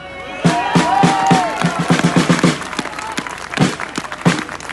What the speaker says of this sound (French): Merci à Marc Doyer qu'on peut applaudir très fort.